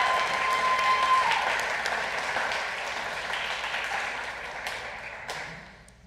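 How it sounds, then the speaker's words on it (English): At a school FFA banquet, a crowd keeps up a sustained round of applause that slowly fades toward the end. A few brighter claps stand out near the close. "Let's give one more round of applause for all of those people."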